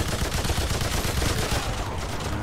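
Dense, rapid gunfire from a cooperative shooter game, Remnant 2, rattling on steadily for a couple of seconds at moderate loudness, with no talk over it.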